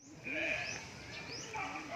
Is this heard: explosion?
no